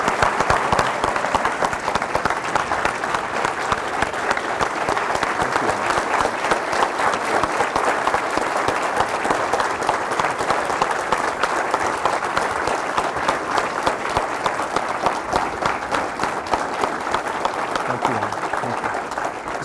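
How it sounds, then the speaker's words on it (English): Steady, sustained applause from a large audience at an Army-Baylor MHA/MBA class opening and closing ceremony, dense and even for about twenty seconds with a few voices mixed into the clapping crowd. "can we give Lee another round of applause?"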